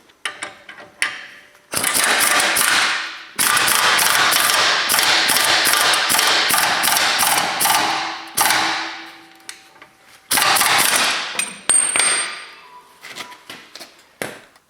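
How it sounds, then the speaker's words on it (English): An air impact wrench drives a rear shackle bolt into place on an S10 Sonoma Blazer, firing several loud, close rattling bursts of varying length with brief pauses between them. "I got my air one, I'm just gonna air impact it into place here"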